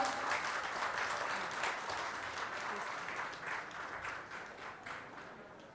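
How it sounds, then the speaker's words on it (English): An audience at a journalism conclave applauds a speaker being introduced on stage, with many hands clapping steadily at moderate level and tapering slightly toward the end. "Let's have a huge round of applause."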